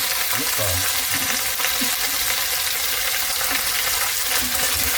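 Lamb shanks, cut into pieces, sear loudly in a pot as a dense, continuous sizzle that lasts throughout, with a few faint clinks and stirring noises underneath.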